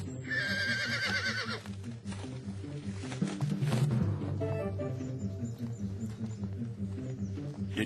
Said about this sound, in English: Alexander had his first glimpse of a horse named Bucephalus.